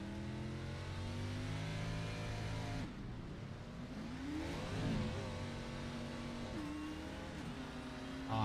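Race car engine in the iRacing sim at a Richmond oval event, a steady high-revving drone with a brief lift-off around the middle before revs climb back, continuous and loud with no voices.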